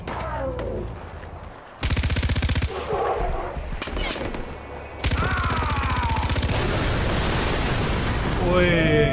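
Dense machine-gun fire in Far Cry 4, set in a Nepal-like game world, plays in two long loud sustained bursts with booming impacts, close and continuous, with a quieter stretch between them.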